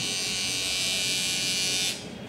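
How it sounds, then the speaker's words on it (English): A small electric eyebrow trimmer buzzes steadily and close by with a high, even whine, then cuts off near the end, leaving faint room noise. "Now check the eyebrow trimmer."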